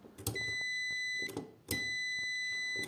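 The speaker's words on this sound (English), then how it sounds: "the input and outputs must be connected and the device must beep" A multimeter beeps steady tones during a continuity test across a contactor blade, giving two sustained beeps broken by a short gap, with faint clicks of the probes.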